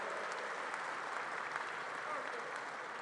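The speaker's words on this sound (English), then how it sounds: "So let's give her a round of applause." A crowd applauds at a JD Vance campaign rally in Pittsburgh, Pennsylvania, with dense, even clapping and cheering filling a large space throughout.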